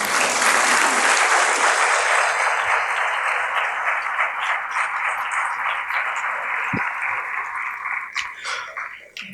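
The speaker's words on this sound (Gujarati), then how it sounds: "એકવાર ખૂબ તાળીઓનો વિવેક સરિતાબેનને." Sustained applause from a theatre audience at a Gujarati literary event, dense clapping loud and steady throughout before thinning slightly near the end.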